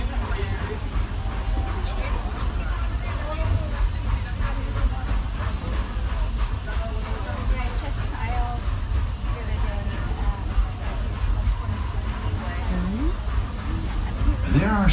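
A Walt Disney World Magic Kingdom steam train runs with a steady hiss and rumbling rail noise, some faint squeals and murmuring voices in the background.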